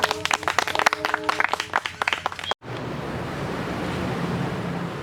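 Sustained, dense applause from an audience welcoming a speaker to the stage at a gathering, a steady wash of clapping that follows a brief burst of other sound and then continues loudly and evenly.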